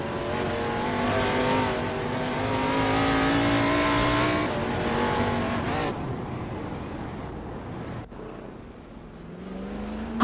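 Race car engines, among them a 1972 Ford Torino, drone and rev loudly at high pitch during a race. The pitch swells and falls as cars pass, then drops away into quieter engine hum near the end.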